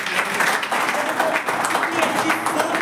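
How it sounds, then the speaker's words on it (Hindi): Audience clapping during a lecture hall session, a dense steady patter of many hands with some speech mixed in. "एक बार तालियां बजा दो।"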